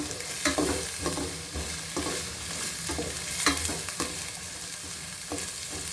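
Ingredients for pulao fry in ghee or oil over a raised flame, a constant sizzle broken by regular scraping strokes of a spoon stirring the pan, close and loud with no voices.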